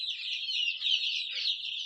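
Free-range native chickens on a farm cluck and chatter continuously nearby, a busy, bright flock sound with no talking.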